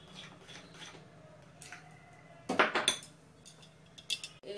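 A metal spoon stirs sweet dish ingredients in a pan, making scattered scrapes and a burst of sharp clinks against the pan, with quiet gaps between.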